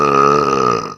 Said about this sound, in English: I like to belch.